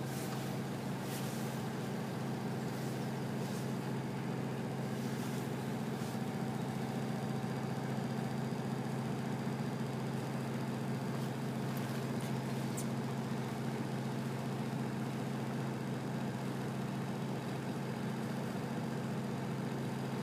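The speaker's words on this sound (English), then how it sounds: "We've got the engine revs down at about 1500" Steady drone of a boat engine held at about 1500 revs during a tidal passage through the Swellies, continuous and close, with a constant low hum and faint hiss, no talking.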